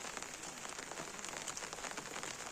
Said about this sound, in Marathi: सकाळपासून पाऊस देखील खूप चांगल्या प्रकारे पडतो आहे